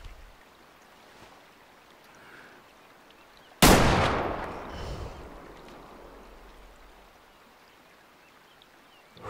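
A single hunting rifle shot at a mule deer in the Way of the Hunter game cracks out sharply and loudly, then rolls away in a long echoing decay over quiet outdoor ambience.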